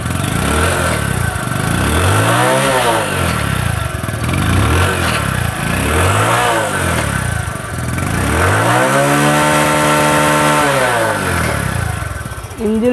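A Bajaj Platina 100cc motorcycle engine in good condition runs close and loud, its steady putter rising and falling in several rev swells before settling.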